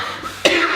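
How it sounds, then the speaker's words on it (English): A single sharp cough, close and abrupt, after a moment of quiet. "cough's back"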